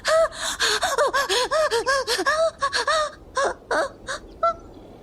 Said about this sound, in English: She just started breathing so fast.